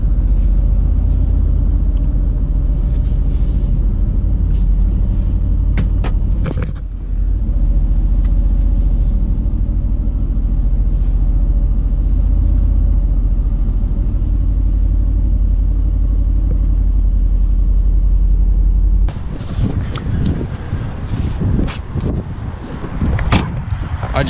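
Renntech-tuned Mercedes-AMG GT S engine rumbling at low speed while parking, a steady deep idle with a brief dip in level, then louder throttle blips and bursts near the end; no talking.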